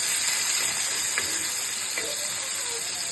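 Fish pieces fry in oil in a covered pan, giving a steady soft hiss throughout with a couple of faint clicks partway through.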